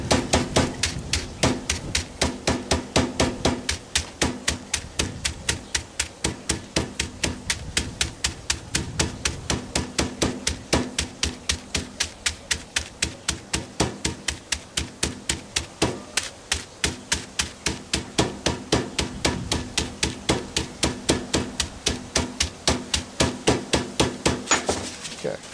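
A hammer strikes again and again in a rapid, steady rhythm of sharp close knocks, crushing something in an ongoing series with no pauses.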